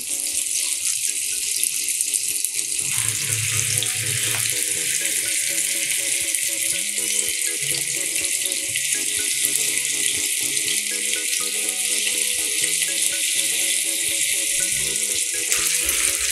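Chicken boti kebab pieces fry in a pan on a stove, giving a continuous soft sizzle and hiss throughout with faint tonal background sounds and no talking.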